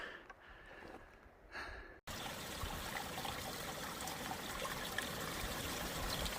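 Water trickles among rocks beside the Appalachian Trail, a steady, close, noisy babble that swells after a brief quieter opening and then runs on without a break.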